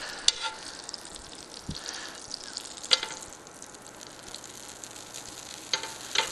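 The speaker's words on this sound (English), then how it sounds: "You know your pan's hot once that butter starts to bubble" Butter bubbling and sizzling in a hot pan on the stove, a soft steady crackle with a few sharper pops, fairly quiet and heard alone without talk.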